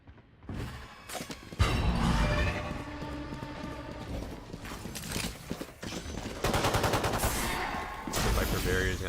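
Gunfire from a competitive Valorant varsity match, bursts and rapid fire crackling through dense game sounds with brief pauses and a loud sustained stretch later on.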